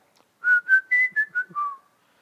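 A person whistles a short melody of about six clear notes, close and fairly loud, with no talking.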